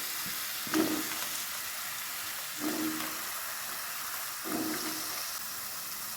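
Soaked carrots hit a hot pan of spices in a Marathi-style carrot bhaji, giving a steady close sizzle with three soft stir-and-toss bursts spaced about two seconds apart.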